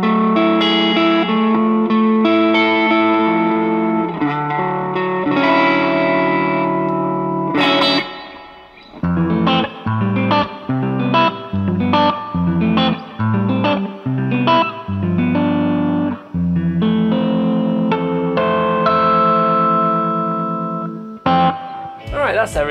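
An electric guitar through a JHS pedal and Roland JC-40 amp plays, first sustained chords, then a run of choppy, rhythmic picked notes with a driven, effected tone and some reverb.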